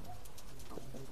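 Omani Teddy pigeons being released give a few short low coos close by against a steady noisy background.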